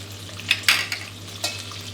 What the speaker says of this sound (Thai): ผัดแค่ให้ร้อนขึ้นมา แล้วก็ออกกลิ่นหอมดีครับ